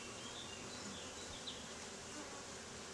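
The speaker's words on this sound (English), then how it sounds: "this one just has a couple of bees" Honey bees buzz steadily around a beehive frame being filled with food, a close, continuous hum that holds at one level throughout with no talking.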